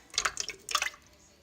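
Canned peaches with their juice are poured into a dish, two short bursts of wet splashing and dripping, close and fairly quiet, followed by a faint trickle.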